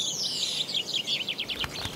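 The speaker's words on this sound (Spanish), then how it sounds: "Un claro ejemplo son los pinzones y los estorninos." Finches and starlings call in a rapid, continuous stream of high chirps and tweets, fairly close and steady for the whole span, with no talking.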